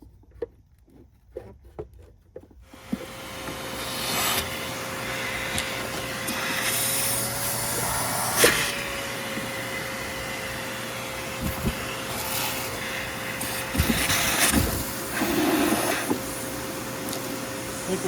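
After a few seconds of handling clicks, a ProTeam 1500/1200 vacuum cleaner switches on and runs loudly and continuously with a steady whine, its airflow briefly changing pitch and rattling as the freshly cleared hose is moved around.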